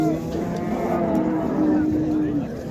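At a livestock market, a nearby cow gives one long, deep, drawn-out moo over a dense background of crowd and market noise.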